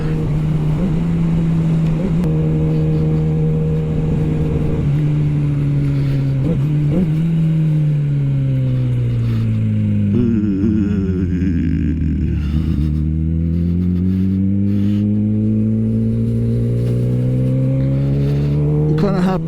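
A Kawasaki ZX-10R sport motorcycle drones loud and close while riding, its engine tone holding steady, then dropping and climbing again with shifts in revs, under constant wind rush.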